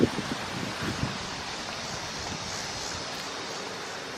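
Wind gusting outdoors beside a parked car, a steady, close broadband rush of buffeting against the microphone with a few soft thumps at the start and no voices.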